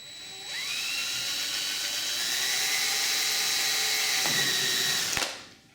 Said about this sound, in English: using a 3mm pilot hole drill, centralise it on the template